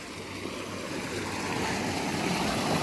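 Water rushing into a farm field at a lemon orchard, a steady broadband wash of flowing water at close range that holds constant throughout, with no speech over it.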